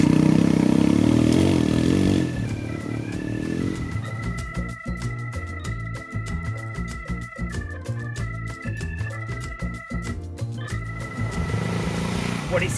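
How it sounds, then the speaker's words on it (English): A light Royal Enfield Himalayan motorcycle works along dirt trails in the Basque Country near San Sebastian. Its engine revs and chugs unevenly, with clattering and scraping over rough ground, and shifts in pitch as it speeds up and slows. "The trails were great fun and this light machine felt right at home on the dirt."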